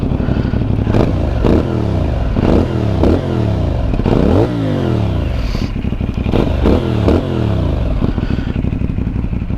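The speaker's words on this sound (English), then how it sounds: "Let's see if we can get a good revving sound on here." A CFMoto 450 NK motorcycle engine revs hard again and again, each throttle blip rising and falling sharply over a loud, rattling idle, close and continuous.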